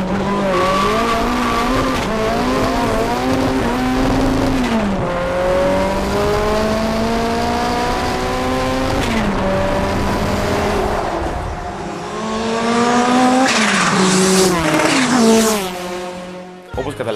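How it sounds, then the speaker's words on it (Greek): A modified Renault 5 accelerating hard, its loud engine rising steadily in pitch through several gear changes with brief drops between shifts, close and continuous, ending with a faint tire squeal. "Για να δούμε λοιπόν πώς επιταχύνει ο βραχίσωμος γίγαντας"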